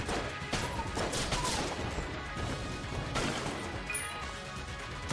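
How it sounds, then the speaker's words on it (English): A bulletkin's makeshift cannon fires in Enter the Gungeon amid dense, crashing bursts of game combat noise, loud and continuous with no speech. "this bulletkin has a makeshift cannon"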